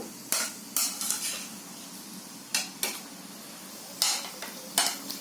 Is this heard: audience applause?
no